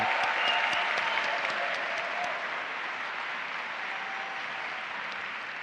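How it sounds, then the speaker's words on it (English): Audience applause at the opening ceremony of the Erasmus Generation Meeting in Seville for the Erasmus Orchestra, a sustained wash of many hands clapping that tapers slightly over several seconds, with no speech. "A big applause."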